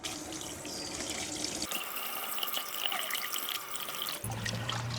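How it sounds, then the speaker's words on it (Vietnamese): Fish maw being rinsed under running tap water in a kitchen sink, a steady hissing stream that shifts in tone as the flow changes, with no talking. "Bây giờ thì mình sẽ đem bong bóng cá này đi rửa."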